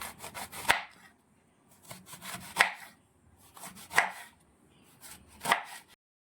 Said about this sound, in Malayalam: പേരക്കയും അതുപോലെ തന്നെ ചെറുതായിട്ട് നമുക്ക് അരിഞ്ഞെടുക്കാം